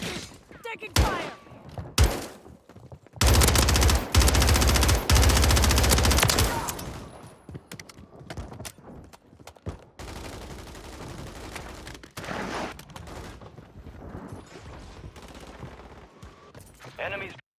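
Machine gun fire from the Warzone video game: scattered single shots, then a loud, dense volley of sustained automatic fire for a few seconds, followed by quieter sporadic bursts and distant gunfire.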